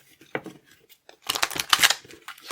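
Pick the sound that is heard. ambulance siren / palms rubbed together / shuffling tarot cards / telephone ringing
shuffling tarot cards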